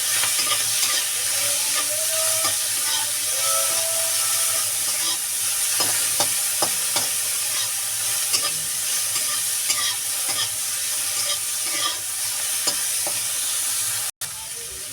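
Salted shrimp fry in hot oil in a pan, making a loud, steady, close-up sizzle with small pops and stirring clinks throughout, and no voices.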